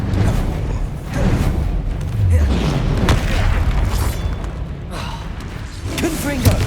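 Expelliarmus spell impacts in Hogwarts Legacy land as repeated heavy booms and slamming thuds amid constant magical combat noise, while a voice talks over the fight.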